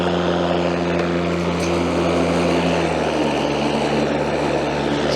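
A high-powered battery lawn mower set to eco mode spins up with a rising whir that settles into a steady, loud motor drone, heard close with no talking.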